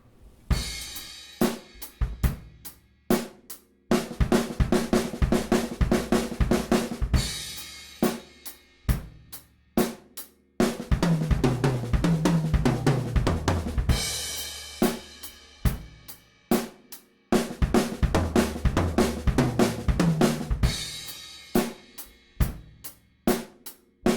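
Drum kit playing rapid 32nd-note fills in repeated bursts, dense snare and tom strokes with cymbal crashes, separated by short pauses.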